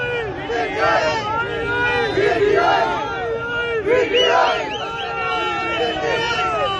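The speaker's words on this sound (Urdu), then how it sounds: "نعرہ عمران جی عمران کا جو نعرہ ہے وہ بلند ہے" A large crowd at a convoy entering Bagh-e-Jinnah, Karachi, chants Imran slogans in rising, rhythmic waves, loud and close, with voices overlapping throughout.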